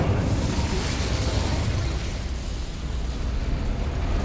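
A fire spell cast in the Hogwarts Legacy video game roars as a loud, steady whoosh of burning flame, dense and rumbling throughout with no break or voice.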